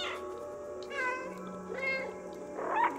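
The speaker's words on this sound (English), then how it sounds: "Press B to meow." Cat meows in the video game Stray, several separate calls spread over three seconds, fairly close and clear over a quiet game background.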